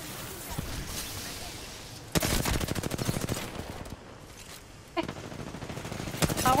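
Automatic weapon fire in the battle-royale shooter Apex Legends comes in two rapid bursts of sharp, evenly spaced shots, loud and close, with quieter game sounds and brief voices between them.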